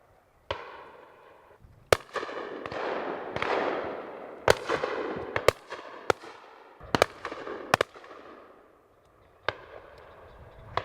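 Shotguns firing at a driven pheasant and partridge shoot at Ripley Castle, sharp reports ringing out at irregular intervals, some near and loud, others farther off, each trailing a rolling echo across open country.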